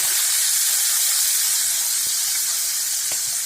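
Anchovies frying in oil in a lidded pan at home, a steady bright hiss of sizzling fat throughout with a few faint crackles and pops, close and continuous, no talking.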